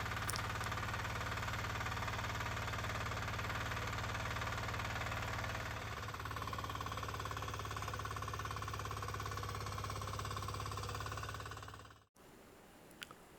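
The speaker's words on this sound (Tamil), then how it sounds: "அந்த பவர் வீட்டரை வச்சு நல்லா உழவு ஓட்டணும்" A power weeder engine runs steadily and loudly while tilling soil to prepare a turmeric field, holding a constant drone for about twelve seconds before cutting out abruptly into near silence.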